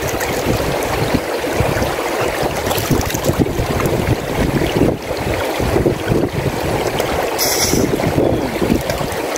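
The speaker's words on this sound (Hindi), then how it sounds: "घाम गइसक्यो जाडो हावा चलिरहेको छ" Cold wind gusts steadily across a river, with broadband rushing and buffeting noise on the microphone that runs unbroken for the whole stretch, no voices.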